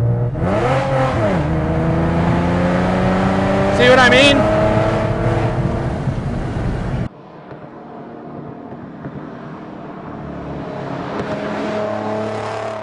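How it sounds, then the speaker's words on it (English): A Ford Mustang Shelby V6 GT exhaust fitted with new production mufflers gives a loud, buzzy, rising engine note that climbs and drops through revs. It cuts off abruptly, then a quieter drone resumes under a man's brief remark. "they sent us these new mufflers that they said are going to be production, and it's just too buzzy"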